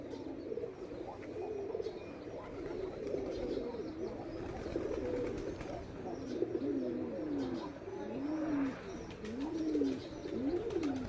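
Pigeons at a village home, one of them a short-beaked breed, coo in repeated soft, rolling phrases close by, with light chirps and faint rustling behind them.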